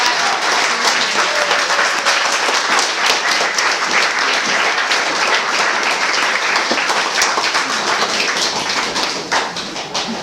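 An audience at a graduation ceremony gives sustained, dense applause, many hands clapping steadily for about ten seconds before beginning to fade.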